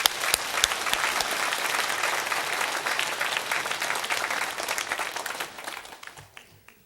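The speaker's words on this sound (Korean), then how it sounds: "여러분 따뜻하게 우리 선생님들을 위해서 축복의 박수 한번 하겠습니다." A church congregation at a Korean Sunday service claps warmly for its Sunday school teachers, producing a full, even wave of applause that holds for about five seconds and then fades out.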